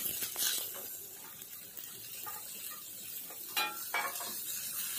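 Sliced onion and curry leaves fry in a pan with a steady, close sizzle, broken by a few louder bursts of crackle and stirring scrapes; no one speaks.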